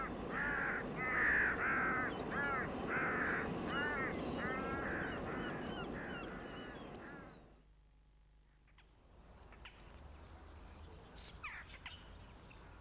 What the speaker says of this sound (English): Jackdaw.